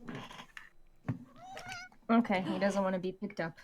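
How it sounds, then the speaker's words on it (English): A cat meowing as it is picked up, a short, high, wavering cry between bursts of people talking nearby. "That was a cat."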